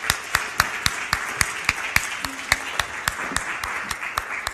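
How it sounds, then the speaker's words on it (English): An audience claps in applause at a startup event, sharp hand claps ringing out across the room in a steady scattered rhythm, moderately loud and with no talk. "Please give a round of applause for Oliver."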